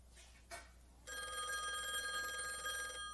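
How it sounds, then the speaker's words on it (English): A telephone bell rings in a Sesame Street scene, a steady continuous ring that starts about a second in and carries on alone, loud and close. "Oh, that's Linda's phone ringing."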